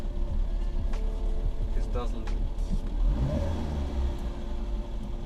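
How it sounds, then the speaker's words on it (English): A Skoda Favorit engine idles with a steady low drone and a constant rattle from its worn timing chain, close by, with someone talking over it. "I just love the chain noise this engine makes."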